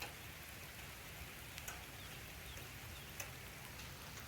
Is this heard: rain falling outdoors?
yes